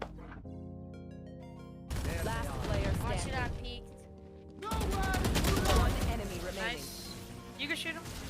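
Rapid gunfire bursts from a video game shooter, loud rattling volleys mixed with in-game music and sound effects, while players talk excitedly over the action.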